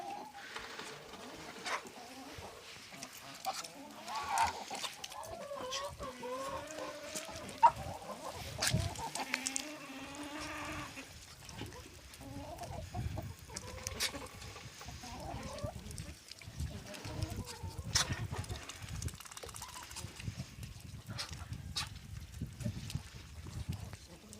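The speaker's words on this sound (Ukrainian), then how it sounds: "то індичка з куркою, то качка з куркою" Chickens, a turkey and a duck squabble on a small household farm, with steady clucking, gobbling and quacking calls overlapping at moderate distance throughout, over faint background noise.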